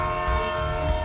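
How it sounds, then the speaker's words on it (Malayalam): A train rolls along railway tracks beside a road, giving a steady, loud, dense drone with a sustained horn-like tone throughout, continuous and close with no voices. "കേൾക്കുന്നില്ലേ ട്രെയിനിന്റെ ശബ്ദം?"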